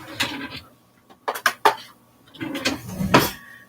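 Kitchen utensils rattle and clink as a clean spoon is fetched, with a brief clatter, a pause, then a drawer or cupboard knock followed by more close metallic jostling.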